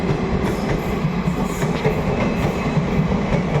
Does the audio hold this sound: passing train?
yes